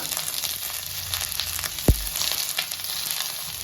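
Chopped tomato, ginger and garlic fry in a pan with onion, making a soft, even sizzle near the mic, with one sharp knock of a utensil midway and no speech.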